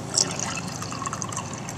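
Water poured from a pitcher into the reservoir of a Keurig B130 coffee maker, a continuous close splashing and trickling fill lasting under two seconds.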